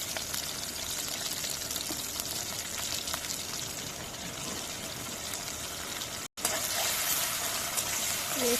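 Onions and green chillies sizzle steadily in a pan, a dense, close hiss of frying that runs throughout, briefly cut off near the end, then resumes loudly with a faint clink.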